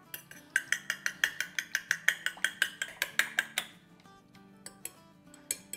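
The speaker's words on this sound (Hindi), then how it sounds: "अब हम क्या करते हैं, झटपट अंडे फोड़ते। और इसको फेंट लेते हैं।" Eggs are beaten with a utensil in a bowl while preparing reshmi kababs, giving a fast, even run of sharp clinks about sixteen strokes long, then a pause and a few scattered taps.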